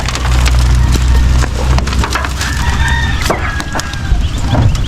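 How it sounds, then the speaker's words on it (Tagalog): Chicks in a backyard chicken cage, with a steady chorus of high, thin peeps over a constant low hum and occasional woody knocks and clucks. "yan ang sisiw"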